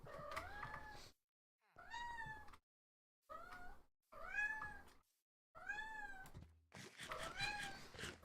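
A cat meows repeatedly and insistently indoors, five or six drawn-out cries separated by short silences, fairly close, with no talking over them.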